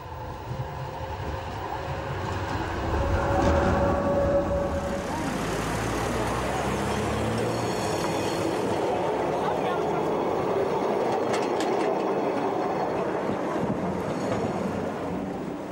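A GT4 tram rolls along street rails in Nordhausen, a steady broad rumble and wheel noise lasting throughout, fairly loud and close, with wind buffeting the microphone.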